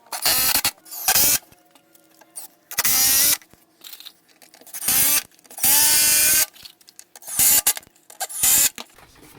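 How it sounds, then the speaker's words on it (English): Several bursts of a power drill pre-drilling a construction-lumber picnic table brace, each lasting about a second, separated by short pauses and small mechanical clicks. "so I'm going to pre-drill it so I don't crack it"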